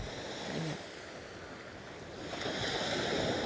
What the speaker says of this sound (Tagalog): Medyo lumaki ang alon, kaya umabot dito.